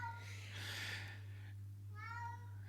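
A cat meows twice, close and clear, the first call longer and the second shorter, over a steady low electrical hum in an indoor room.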